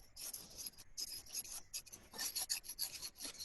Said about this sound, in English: Yeah, let me sand.